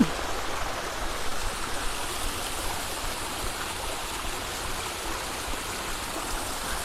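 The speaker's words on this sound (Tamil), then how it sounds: "திருவண்ணாமலைக்கு மேலே இப்படி ஒரு அருவி ஓடுது" A waterfall flowing in the hills above Tiruvannamalai, heard as a steady, close, full rushing roar of falling water that stays even throughout, with no talking.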